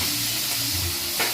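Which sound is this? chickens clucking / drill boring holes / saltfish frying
saltfish frying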